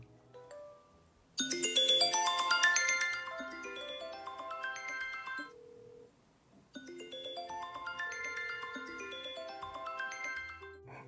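The ringtone of a Hong Kong dual-SIM iPhone 11 Pro rings twice, each time as a bright chiming melody of rising arpeggios. There is a short pause between the rings, and the sound is clear and alone.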